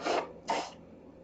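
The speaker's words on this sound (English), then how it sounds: "while I'm blowing my nose" A person blows their nose in two short, breathy honks, close and fairly loud, with a brief gap between them and a quieter exhale trailing off afterward.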